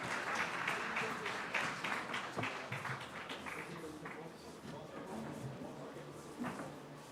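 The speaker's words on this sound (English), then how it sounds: "Please, big round of applause," Audience at an AI summit applauding, a continuous patter of many hands clapping that gradually thins out, with some crowd noise in the room.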